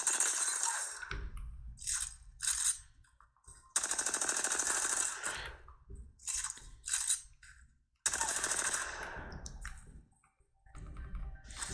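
Gunfire from the video game Apex Legends played on a Steam Deck, with three bursts of rapid automatic shots separated by short gaps and lighter clicks, loud and close, no speech.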